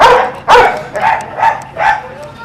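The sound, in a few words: dog barking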